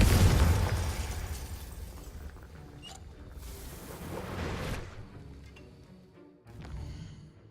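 A Confringo fire spell explodes in the Hogwarts Legacy video game, a loud booming blast that rolls into a long rumbling decay, followed by a second, softer surge of crackling noise.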